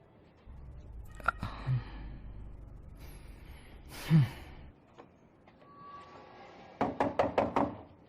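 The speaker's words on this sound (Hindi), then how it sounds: "मैं कब से दरवाजा खटखटा रहा था।" A rapid burst of five or six sharp knocks on a door, close and loud, after scattered faint bumps and breathing sounds.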